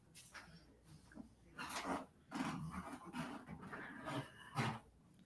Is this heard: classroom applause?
no